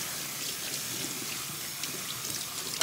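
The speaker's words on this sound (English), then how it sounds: "I just use a big bowl, swirl the water around, use my handy dandy colander, and do this 3 times" Strawberries being rinsed in a big bowl of water, a steady running, swishing splash at low level from start to finish with a small clink near the end.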